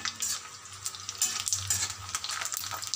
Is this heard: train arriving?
no